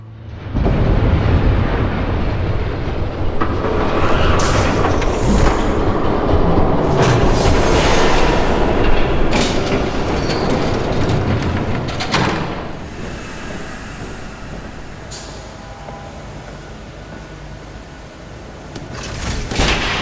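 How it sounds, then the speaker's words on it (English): A train rolls past in the Batman Telltale Series video game, a loud, sustained rumble with rattling carriage clatter and metallic clanks that swells early, holds, then eases toward the end. "There's a train coming. Take cover."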